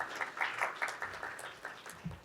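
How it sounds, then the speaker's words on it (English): Conference audience applauding vendors at a trade show, heard as fairly faint, scattered clapping from a room of people, with distinct individual claps standing out through a soft background murmur. "Let's give them a round of applause"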